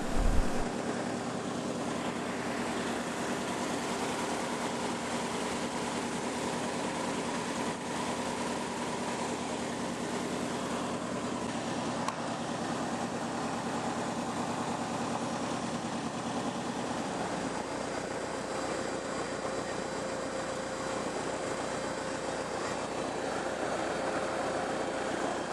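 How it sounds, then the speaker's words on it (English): Starduster Too biplane with a tailwheel taxiing down a runway at low power, its propeller and engine giving a steady, continuous drone that stays close and even throughout, with no talk. "Gary taxied us down to the south end of runway 31"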